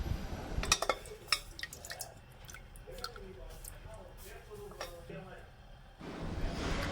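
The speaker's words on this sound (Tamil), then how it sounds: "இப்போ நம்ம வேக வச்சு எடுத்து வச்சோம் இல்லையா அந்த மட்டன் அதை தண்ணியோட இதில் ஊற்றிடணும்" Cooked mutton with its cooking water is poured into a nonstick pan of oil, giving soft wet splashes and drips with a few sharp clinks, followed by a quiet sizzle and a louder rush of sound at the end.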